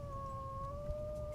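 A wolf in the Vintage Story video game howls in one sustained, steady tone that is clear and unbroken, with no talk over it.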